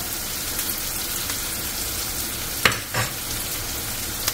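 Cinnamon frying in a pan gives a steady broadband sizzle throughout, with a couple of brief louder clatters of stirring near the end.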